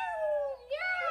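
A person imitates a cat with a drawn-out, nasal meow, bending downward and then rising into a second higher mew, close and clear, a single voice with no other sound.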